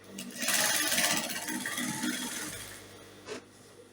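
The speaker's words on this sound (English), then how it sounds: "then stitch directly on the center of the side seam" A sewing machine runs a straight stitch along the side seam of a ruched gown, a close, rapid whirring burst lasting a couple of seconds that slows and stops, followed by a brief mechanical click.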